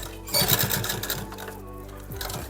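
Sewing machine stitching lace onto a dupatta, running in close bursts of rapid mechanical clatter with brief pauses between runs.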